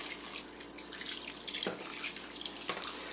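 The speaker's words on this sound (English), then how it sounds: "And then some filtered water." Filtered water pours into a dish of seafood with lime and lemon juice, giving a steady close trickle and splash with a couple of heavier glugs and no talk.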